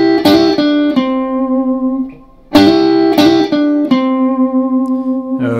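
An electric guitar lick with hammer-ons, played as two bright, distorted phrases of quick notes that ring out and decay, loud and close with no talking.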